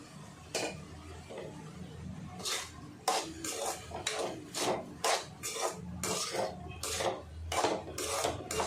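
Cooked rice pours and rattles into a metal pan in a series of short, crisp bursts while making lemon rice, close by and fairly quiet, with no talking.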